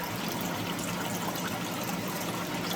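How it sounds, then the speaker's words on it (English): Steady water trickling from a dehumidifier near a garden pond build, a constant broadband wash with no distinct separate drips, no talk. "You see it dripping right there? That's the dehue water dripping."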